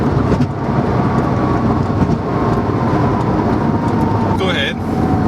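A 2008 Porsche 997 911 Turbo engine gives a steady, loud, rumbling drone up close, with a brief higher tone near the end.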